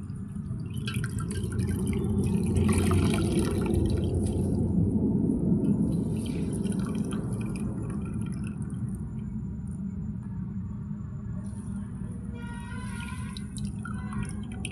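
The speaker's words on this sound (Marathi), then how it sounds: "भाजी आपण ही पिळून घेऊया" Water dripping and trickling from squeezed rajgira (amaranth) leaves, soft and close, with small irregular drops and splashes over a faint continuous background.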